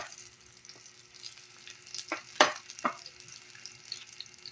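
Onions and garlic frying in a pan, a quiet close sizzle with a few sharp spoon scrapes and clacks in the middle.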